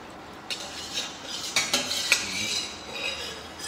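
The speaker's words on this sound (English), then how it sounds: "we'll just deglaze this pan as well with the bone broth" A pan is deglazed with bone broth for a brown stock, giving a faint sizzle with scattered clinks and scrapes of a utensil against metal and no voices.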